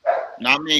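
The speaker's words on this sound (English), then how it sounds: "Whose dog is that?" A dog barks a few quick times close by while people talk over and around it during an NFL offseason discussion show.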